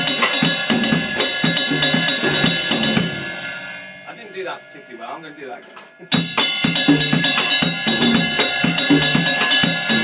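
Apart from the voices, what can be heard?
mambo rhythm played on drum kit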